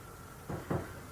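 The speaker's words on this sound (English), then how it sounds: "You open this door." A door opens in a quiet room during apparently haunted footage, giving two soft, dull knocks about a fifth of a second apart over faint room hiss.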